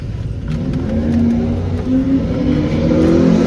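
A Chevrolet Z71 truck revs loudly and steadily at a drag strip, its engine roaring with a deep, sustained drone that swells slightly as it holds high revs, with no talk over it.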